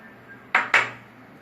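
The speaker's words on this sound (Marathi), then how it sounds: "आता हे मिक्सरमध्ये मी नारळाचे तुकडे टाकते" Two quick hard clatters a fraction of a second apart as coconut pieces drop into a steel mixer jar, sharp and close, then quiet.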